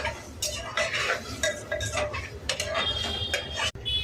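A spoon stirs roasted wheat lapsi after hot water is poured into the pot. Clinks and scrapes of metal against the pot repeat in quick, uneven strokes, close and fairly loud.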